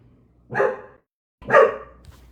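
A pet dog barks twice at home, two short, close, loud woofs separated by a brief pause, with no talk over them.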